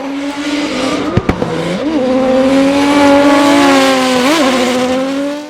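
High-horsepower Nissan drift cars battle at Hampton Downs in a loud, close engine roar that dips and rises between gear changes, marked by sharp pops near the start, and no talk.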